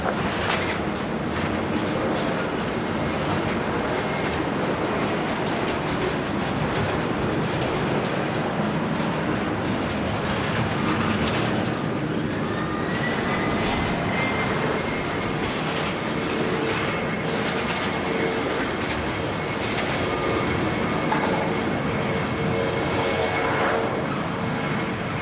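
Airliner taking off from runway 16 right at Sydney Airport, a loud, sustained roar of jet engines building and holding for over twenty seconds, with a rising turbine whine partway through.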